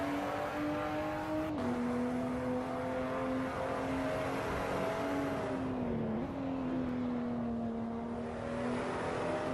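Simulated race car engine at the Red Bull Ring in a sim racing game, a loud steady drone that lifts and dips with throttle, two brief drops marking gear changes as it pulls on, continuous throughout with no talk.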